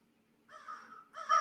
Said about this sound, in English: Why is there a crow option?